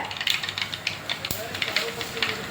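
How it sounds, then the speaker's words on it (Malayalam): Mustard seeds crackle and pop in hot oil, quick irregular snaps over a constant hiss, with a voice faintly in the background. "അപ്പം നമ്മുടെ കടുകൊക്കെ പൊട്ടുന്നുണ്ട്"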